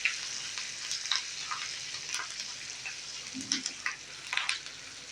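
Green chilies sizzle in hot tempering oil for idada or white dhokla: a close, steady hiss broken by scattered sharp pops and crackles, with no one speaking.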